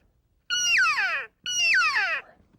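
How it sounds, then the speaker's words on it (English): An elk call reed blown to make a meow-like cow elk sound: two loud, close, falling whiny calls of under a second each, separated by a short pause, alone in quiet surroundings. "and that gives that meow sound."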